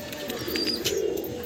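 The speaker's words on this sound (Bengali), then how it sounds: "দারুণ পায়রা, দারুণ পায়রা।" Roller pigeons give a brief, soft cooing call at close range, mixed with light chirps and background rustle.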